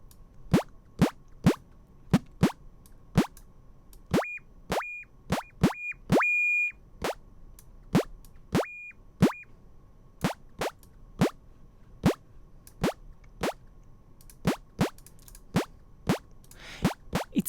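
Synthesized UI button clicks built in NI Massive with a sine wave: a steady run of short, sharp plopping clicks in a quick, even rhythm, with a few brief higher-pitched tonal beeps in the middle, no voice.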